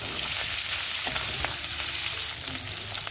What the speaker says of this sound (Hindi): अभी हम इसे हाई फ्लेम से थोड़ा सा कलर इसमें आने तक इसको सिर्फ ऐसे ही भूनेंगे